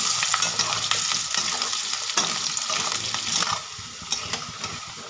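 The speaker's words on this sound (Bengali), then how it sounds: "আলু আর ফুলকপিগুলোকে ভেজে নেব" Potato and cauliflower pieces fry in hot oil for a vegetarian aloo fulkopi, a loud, steady sizzle with frequent stirring scrapes and clatters, easing slightly toward the end.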